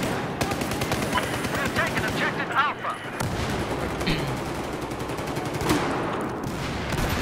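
Rapid automatic gunfire and bursts from a shotgun-focused Battlefield 4 match, dense and continuous with brief pauses, someone talking over the shooting in German.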